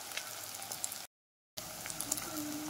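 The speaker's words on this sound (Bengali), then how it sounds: "আদার কাঁচা গন্ধটা যতক্ষণ না যায় ততক্ষণ একটু কষিয়ে নেব" Ginger and coriander powder fry in oil in a pan, a soft, steady sizzle with faint crackles, broken by a brief silent gap midway.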